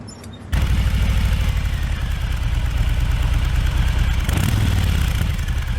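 A Harley-Davidson M8 Softail motorcycle with its stock exhaust fires up and settles into a steady, loud idle close by, a low, even rumbling putter with no voices over it.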